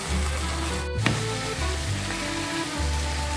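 Chicken pieces frying with masala in a pan over a medium flame, a steady close sizzle and crackle with a low hum and a brief clatter partway through.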